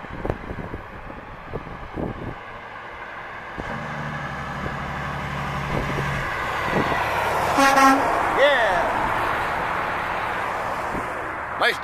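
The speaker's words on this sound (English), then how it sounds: "You got an air horn, you can use it." A loud air horn blasts once from a passing International truck amid steady traffic rumble, with voices in the background.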